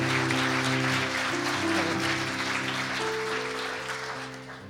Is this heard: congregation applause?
yes